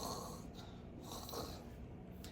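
A person imitates snoring with the voice, giving breathy, snorting rasps in a couple of drawn-out pulses, fairly close and on its own with no talk.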